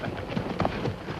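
A horse's hooves clip-clop briefly on open ground in a 1960s Western film, a quick, busy run of muffled thuds set against a noisy soundtrack bed.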